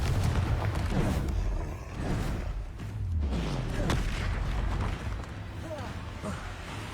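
Confringo fire spell blasts in Hogwarts Legacy, rumbling booms amid dense battle noise, with a voice shouting spell names over the explosions.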